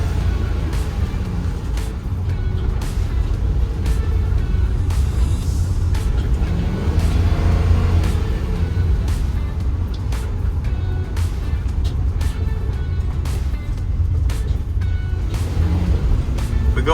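A 2014 Ford E-series van engine drones loudly and steadily under a slipping transmission that drops toward neutral in high gear, with a continuous close-up rumble and faint clicks.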